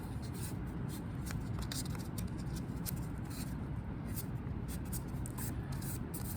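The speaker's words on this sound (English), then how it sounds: "Now I will have to fold it once, in half again" Filter paper being folded at a chemistry lab bench, a dense, steady papery rustle and crinkle running continuously and close up, with faint crisp creases, no voices.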